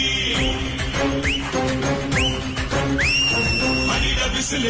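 A whistle blown at a political rally in Tamil Nadu, several short rising blasts followed by one longer sustained tone, loud over a busy background of music and crowd noise.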